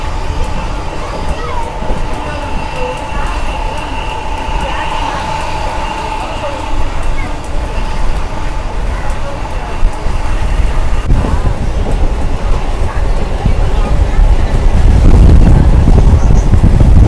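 A MEMU train runs on the Marikuppam line after Bangarapet, heard from on board as a continuous rumble with wind rush that grows louder toward the end, while a person talks over it.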